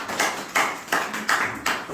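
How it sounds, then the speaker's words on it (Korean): Applause at a Korean business presentation for a barter-trading platform, coming in several broad noisy swells of clapping from a small audience, fairly close and steady, with no talk over it. "박수 한번 해주세요."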